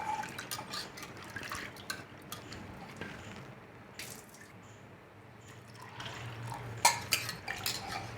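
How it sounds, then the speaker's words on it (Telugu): Soaked lentils are rinsed in a vessel, water sloshing softly with quiet drips and occasional clinks of the metal pot, close and faint, with a brief sharper splash near the end. "వాటర్ మంచిగా పోసుకొని ఒక 2 సార్లు కడుక్కుందామండి."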